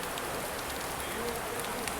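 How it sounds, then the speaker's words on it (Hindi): Heavy rain pours at a dark railway station during a Goa to Mumbai Mandovi Express journey, a dense steady hiss of drops drumming on surfaces, loud and continuous throughout. "बहुत तेज़ बारिश हो रही है।"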